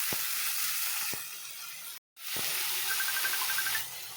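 Dheki shak fern greens tossed into hot oil with fried garlic set off a steady, bright sizzle and hiss, broken by a brief drop to silence and a few soft knocks from the pan.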